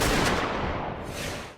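One loud rifle shot, fired through a narrow gap during a hostage rescue, booms close by and then rolls off in a long, fading roar.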